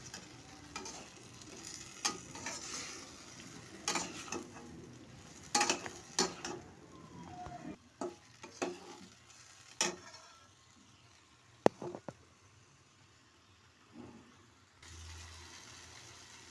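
A poppy seed and cashew paste fries in a pan while it is stirred, with scattered, fairly faint scrapes and clinks of the utensil over a low sizzle.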